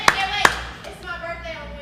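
Two sharp hand claps ring out close together at the start, followed by faint voices chattering in a room at a birthday gathering.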